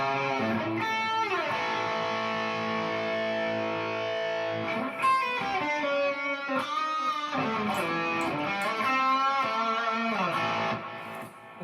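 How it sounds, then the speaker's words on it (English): An electric guitar plays a sustained lead through a Line 6 Helix gain preset with the Lush Delay effect. Held, bending notes ring out alone with smeared, trailing repeats, played at moderate loudness. "the Lush Delay works pretty well with that too, for some big lead sounds."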